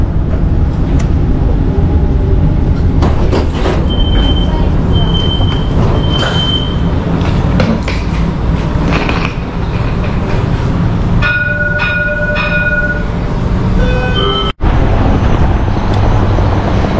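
A tram rolls into Mina Seyahi station in Dubai, its loud rumble and rattle filling the clip, with brief electronic tones and a squeal of wheels as it slows and stops.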